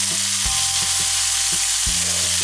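Garlic and chopped tomatoes sizzle loudly in a hot pan, a steady crackling fry with a couple of low bumps as the food is stirred or tossed, close and without talk.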